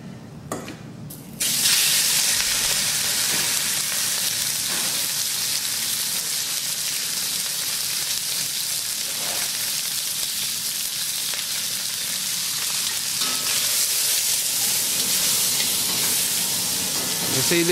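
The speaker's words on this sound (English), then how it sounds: "this has never stopped cooking, continually searing and cooking all the time, and it's cooking right in the centre." Chicken searing in a very hot wok on a Capital Culinarian range, a sudden loud burst of sizzling and spitting that settles into a steady, intense close-up hiss and crackle.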